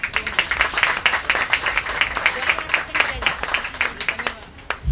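Light applause from guests at a dinner honoring an activist, steady patter of many hands clapping at moderate distance, with voices murmuring underneath.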